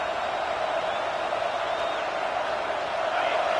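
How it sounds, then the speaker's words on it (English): A football game crowd roars in a steady, unbroken wash of cheering noise, loud and constant from start to finish. "The roar of the crowd trying to fuel this defense to keep them pinned in their own end."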